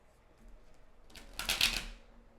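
A brief riffle of cards being shuffled, a quick rising burst of papery flutter close by in a quiet room.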